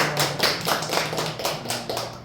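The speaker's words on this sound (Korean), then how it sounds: "자, 박수." A small audience claps at the start of a talk on anti-money-laundering audit, a handful of close, fairly quick claps in an uneven rhythm, brief and moderately loud.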